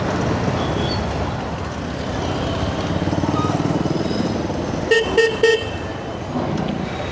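Dense road traffic heard from a motorcycle during a monsoon ride, with a steady engine and road rumble throughout and a cluster of loud, close car-horn honks near the end.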